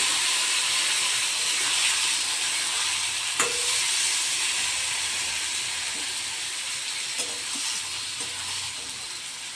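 Spice paste and green chilli paste sizzle and hiss steadily in a hot pan, with a couple of sharp scrapes and clinks as a spoon stirs through the mixture.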